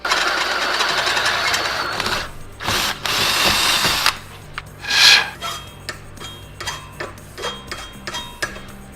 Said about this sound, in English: let's drill a hole the same size as our round stock through the top part of this thing